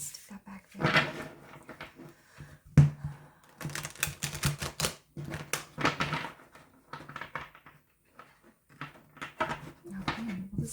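A tarot card deck being shuffled, with dense papery riffles and snaps in bursts across the whole stretch, close and moderately loud, with brief low voiced sounds underneath at times.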